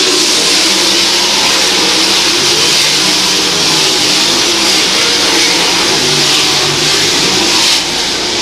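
Grassroots race cars at a green-flag start, a loud, dense roar of several engines accelerating together throughout, close and continuous with no talk.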